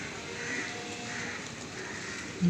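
A crow caws outdoors, giving a few moderately faint calls over a steady background hush, with a louder burst at the very end.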